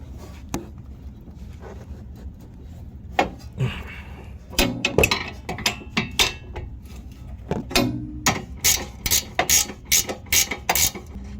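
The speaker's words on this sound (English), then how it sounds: "We're gonna go ahead and remove this nut on the bottom shock absorber. It's a 19mm wrench." A 19mm wrench ratcheting on the seized bottom shock absorber nut of a 2020 Mazda CX-5, close and clicking in quick bursts of pawl ticks, with sporadic metallic clanks and knocks between them.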